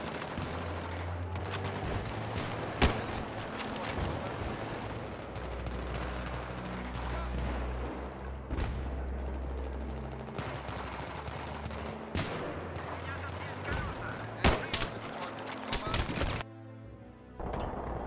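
Dense gunfire from a Battlefield 3 shootout rattles almost continuously, with sharp individual shots and rapid bursts over a low rumble, loud and close, while a voice talks intermittently beneath it.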